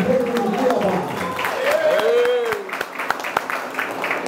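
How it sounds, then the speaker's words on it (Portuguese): Applause at a solemn session of the Cuiabá city council honouring the Coxipó da Ponte district: scattered sharp claps and crowd noise, with voices calling out over the clapping before it thins out. "uma salva de palmas ao nosso vice-prefeito e futuro prefeito do Cuiabá."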